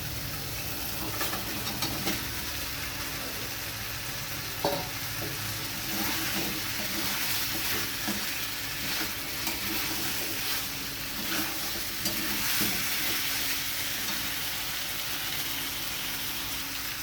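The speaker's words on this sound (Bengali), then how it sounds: "এবার আমি দিয়ে দেবো ভেজে রাখা ফুলকপি আর আলুটা" Fried cauliflower and potato pieces sizzle in spiced masala in a pan, a steady broad hiss with soft scattered stirring scrapes throughout, no voices.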